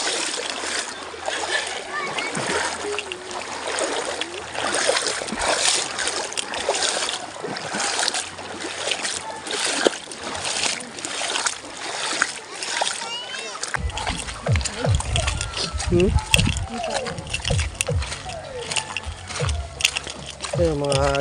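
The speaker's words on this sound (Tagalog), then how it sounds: "Malakas yung tubig din, malinis." Strong, clean river current running through a mountain area after rain, a steady broadband rush of water with splashing throughout, while people talk over it; a deeper, heavier churn comes in during the second half.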